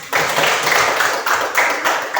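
A classroom of pupils claps for a classmate during a geography lesson, a loud, close burst of rhythmic hand clapping lasting a couple of seconds.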